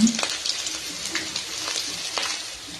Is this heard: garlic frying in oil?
yes